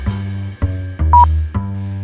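A voice imitates a supermarket barcode scanner, giving four short tonal beeps at a steady rhythm, with one brighter whistled blip in the middle. The beeps are loud and close, with no talk around them.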